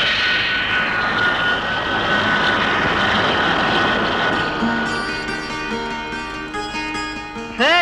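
A propeller or jet airplane arrives at an airport in a Telugu film, giving a loud, steady engine roar throughout, with sustained musical tones rising over it in the second half.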